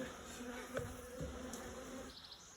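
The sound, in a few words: bees buzzing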